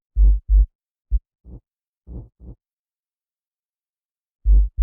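A heartbeat synthesized in Ableton for EDM, with deep, punchy paired thumps in a steady lub-dub pattern, loud and dry, with a gap of silence before the final beat.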